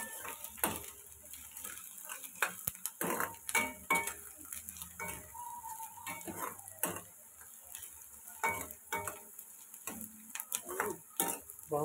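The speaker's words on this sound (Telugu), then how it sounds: "నూనె వేసి ఉల్లిపాయలు వేపుకున్నాం." Onions and green chillies fry in oil in a pan while being stirred, with clinks and scrapes of a utensil over a steady sizzle, up close and without speech.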